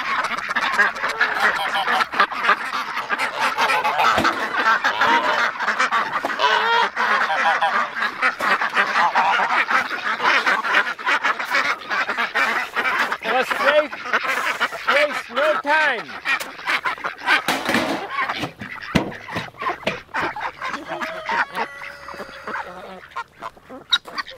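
Hungry ducks on a farm keep up a dense, near chorus of quacks and honking calls for a long stretch, with occasional thumps and rustles underneath.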